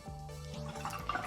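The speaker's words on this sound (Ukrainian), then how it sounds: "Намагайтеся мити пензлик перед тим, як занурювати у фарбу, щоб вона не була брудною." A watercolour paintbrush swished in a water jar, brief soft sloshing and dripping with faint tonal ringing, quiet and close for just over a second.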